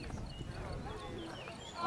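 Horses walk back to their stables at a medieval festival in Mornay-Berry, Cher, France. Soft hooves clop faintly under steady crowd noise and nearby talk.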